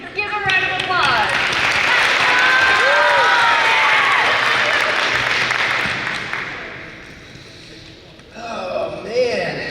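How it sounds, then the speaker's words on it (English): An audience in a room gives a round of applause with some cheering, loud and dense for several seconds before fading; a voice speaks briefly at the start and again near the end. "Give a round of applause"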